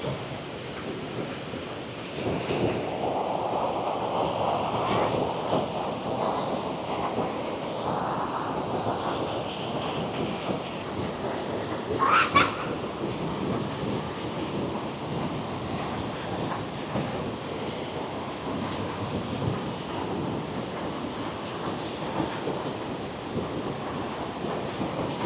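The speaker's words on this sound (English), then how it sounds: "the rivers are making its way to these waterfalls here" Broad steady roar of a big river pouring over waterfalls near a cement wall, continuous rushing water throughout with a brief sharper splash or clank partway through, no talking.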